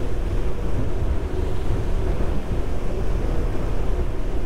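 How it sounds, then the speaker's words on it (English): A J Craft Torpedo RS motor boat running at speed with the throttles pushed down, giving a loud steady roar of engine, hull and rushing water mixed with heavy wind buffeting on the microphone, no speech. "if I put the throttles down a little more, we really pick up"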